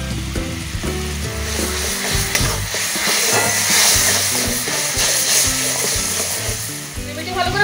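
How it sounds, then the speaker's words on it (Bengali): Tomato and spice masala sizzles and fries steadily in a pan for a village-style Bengali lentil-dumpling curry, with stirring scrapes and a rising hiss as water is added, loud and continuous with no talk. "টমেটোটা গলে গেছে, এবার আমি একটু জল দিয়ে দেবো যাতে মশলাটা পুড়ে না যায়।"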